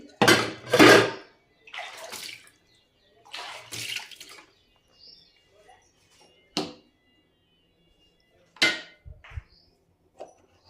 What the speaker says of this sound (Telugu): ఇప్పుడు సామాన్లన్నీ కడగాలి